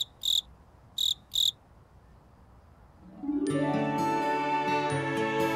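Three short, sharp cricket chirps from an animated show ring out clearly in a quiet space, then a bright, layered musical tone swells in and holds.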